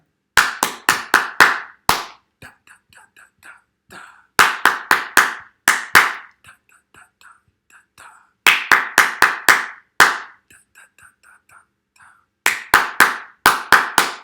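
Hands clap crisp, sharp rhythmic patterns for a clap-back game, each burst of several quick claps followed by quieter tapping or echoing claps, the phrases repeating through the clip.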